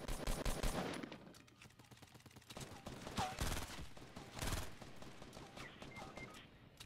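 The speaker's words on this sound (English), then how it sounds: "Light him up, Hunter." Rapid automatic gunfire in a Fortnite battle royale match crackles in loud bursts, with sharp shots and a heavy blast mixed into a busy game soundscape while players talk over it.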